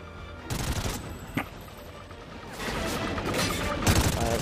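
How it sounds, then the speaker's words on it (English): Gunfire in the Call of Duty Ghosts campaign, with scattered shots and a sharp crack early, then sustained rapid bursts in the second half, moderately loud and continuous. "I'm not sure why these guys are shooting"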